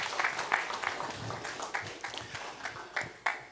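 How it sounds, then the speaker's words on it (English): A crowd at a UK wealth summit applauding a speaker: dense, steady clapping heard throughout, moderately distant, with a brief voice in the mix and a sharper burst near the end. "A round of applause again for him one more time"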